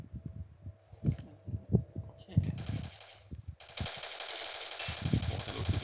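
Rapid bursts of automatic gunfire in a shooting video game, first a few scattered shots and then a long, dense, continuous stream of fire that grows louder in the second half, with no speech.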